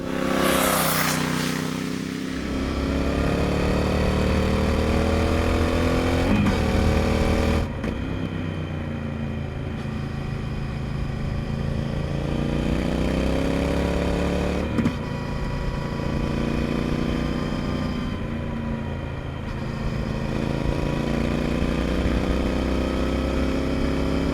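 A Triumph Speed Twin motorcycle engine hums and rises through the gears on a mountain road in northern Arizona, steady and close, with wind rush and several shifts in pitch.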